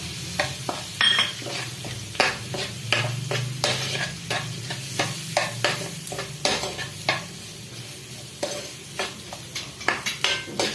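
Chili powder lightly roasting in a pan for a prawn dish, with a soft sizzle under repeated sharp scrapes and clinks of a spoon stirring against the metal, steady and close, no voices.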